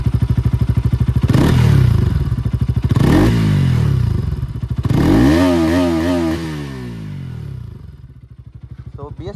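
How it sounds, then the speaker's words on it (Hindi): Close, loud exhaust note from a Bajaj Pulsar RS200 BS6 motorcycle, with repeated throttle blips that rise and fall in pitch before the engine settles into a lower idle, with no speech. "तो BS6 का एग्जॉस्ट नोट कुछ इस तरह रहा।"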